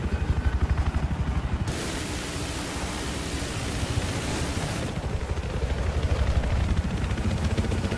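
Helicopter in an Xbox video game, heard as a steady, dense rushing whir that grows slightly louder toward the end, with no talking.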